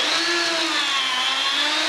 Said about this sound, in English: take the Craig tool pocket hole jig and just make some pocket holes